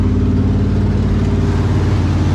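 A 1972 Dodge D100 pickup truck's engine idles loud and close, a steady low rumbling throb with an even pulsing rhythm and no speech.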